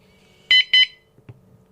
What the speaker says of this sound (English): Double beep means the physical lock has latched.